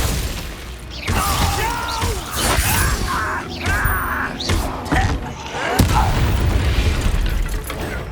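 Glacius ice spell cast during a duel in Hogwarts Legacy: a string of heavy booms, thuds and crackling, shattering impacts over a dense, continuous game soundscape, loud and close throughout.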